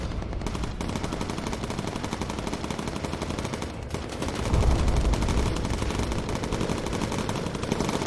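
Rapid bursts of turret machine-gun fire from a World War II bomber in the game Bomber Crew, firing incendiary rounds, sustained and dense throughout with a heavier, louder stretch midway.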